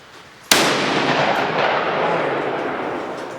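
A single Benelli M4 shotgun slug fired at a range, one loud, sharp blast with a long rolling echo trailing off behind it.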